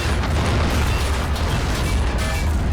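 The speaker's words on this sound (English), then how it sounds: "Nearly a direct hit from the artillery." An artillery shell explodes in the Army Men-style war game, a loud, sustained broadband blast with a heavy low rumble that fills the whole moment, close by and with no talking over it.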